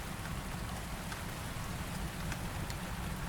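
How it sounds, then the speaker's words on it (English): Spring rain falls steadily on Qingmao Mountain, a dense, even hiss of drops spattering across surfaces with no break and no voices. "The spring rain quietly rained down on Qingmao Mountain."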